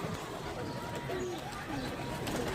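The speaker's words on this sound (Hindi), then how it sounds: "ओह कबूतर बैठा हुआ।" A pigeon sitting close by gives low, rolling coos in a couple of short phrases over a busy background of ambient noise and faint chatter.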